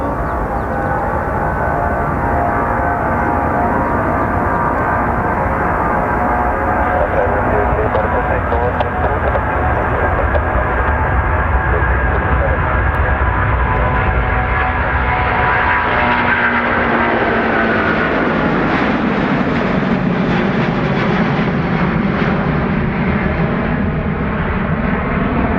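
Jet aircraft engines at Dublin Airport drone loudly and continuously, a heavy roar that swells and shifts in pitch as a plane moves, with a voice talking faintly beneath it.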